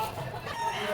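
Yellow-legged gold bull stag rooster clucking nearby at a gamefowl market, a short burst of throaty clucks over outdoor background murmur.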